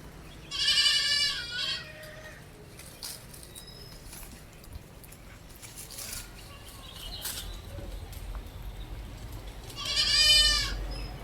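Goats bleat loudly twice, once near the start and again near the end, with quieter farmyard background noise between the calls.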